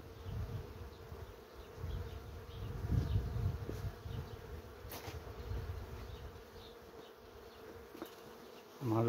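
Honeybees from a large queenless colony buzz steadily around a swarm at the hive, a continuous droning hum at moderate level with slight swells and no voices.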